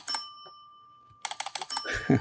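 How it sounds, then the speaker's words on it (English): A solenoid typewriter clacks, pauses, then rattles off a quick burst of mechanical key strikes, with a clear ringing service bell tone sustained through it and a louder clunk at the end. "So just imagine typing and hearing that, and then when you hit return, you get the service bell."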